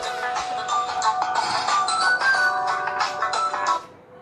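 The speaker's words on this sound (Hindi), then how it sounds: "1 मिनट फोन आ रहा है" A phone ringtone plays melodically and fairly loud for almost four seconds in an otherwise quiet civil engineering classroom lecture, then cuts off abruptly.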